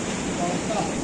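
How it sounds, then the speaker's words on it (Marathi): Sea water surging and crashing against a rocky shoreline edge on the Konkan coast, a continuous broadband roar of surf with wind noise, steady and close, no talk over it. "पाणी पूर्ण कडेला मारतंय"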